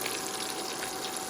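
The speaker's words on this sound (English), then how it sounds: "Frying nicely." Chicken tenders for Nashville hot chicken fry in oil, giving a steady, even hiss and crackle that runs on without a break.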